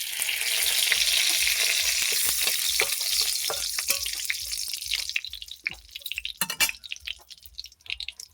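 A bay leaf fries in hot oil in a karahi, with a loud, dense sizzle for about five seconds that then eases into scattered crackles and pops.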